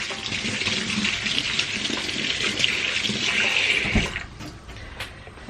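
Tap water runs steadily into a kitchen sink while hands are wetted before handling bofrot dough, a continuous close splashing stream that thins out toward the end with a few scattered drips.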